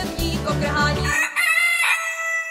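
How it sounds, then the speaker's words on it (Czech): A rooster crows loudly in a sung Czech fairy tale, one drawn-out cock-a-doodle-doo with clear harmonic calls, set over a rhythmic musical backing that drops out midway. "když zasnělo první kokrhání"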